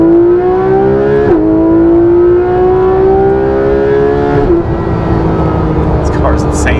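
A Porsche 911 GT3 RS with PDK gearbox winds up hard under acceleration, the engine note climbing through two quick upshifts, loud and close from inside the car.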